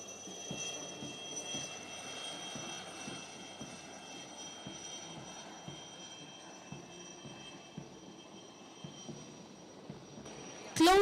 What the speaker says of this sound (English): The Chetaks are versatile, lightweight, multi-role helicopters